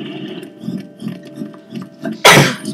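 A single sharp, loud sneeze bursts out near the end, after rhythmic soft mechanical clicking and ratcheting in a Lego Harry Potter game.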